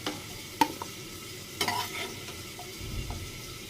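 Potatoes frying in a pan while paneer curry is cooked, a soft steady sizzle broken by a few sharp clicks and scrapes of a utensil against the pan.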